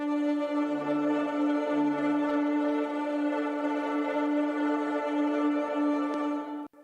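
Two layered synth atmosphere pads, one a granular patch built in Pigments, drone together as a steady, rich sustained texture with a low pulsing swell in the first seconds, alone with no voices.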